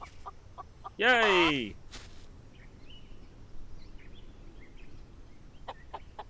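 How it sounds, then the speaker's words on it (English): A chicken in the survival game Solarpunk gives one short, loud, close squawking cluck, then only a low quiet background follows, with a brief cheering voice nearby. "so we have our first chicken"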